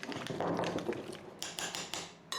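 Fresh chunky guacamole being mixed in a bowl, with soft squelching and scraping followed by several sharp clicks of a utensil against the bowl, close and clear, without talk.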